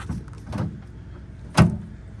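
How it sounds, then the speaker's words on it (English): Heavy door latch on a 1964 Ford Galaxie 500 being worked, giving two soft clunks followed by one sharp, loud metallic latch click, close by with no talk. "That's the latch for the door."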